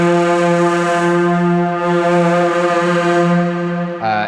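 A loud, sustained synthesized brass tone from an Airwave controller, played as a hard overblow by tilting the wrist, holds a steady pitch, swelling slightly, then cuts off abruptly near the end.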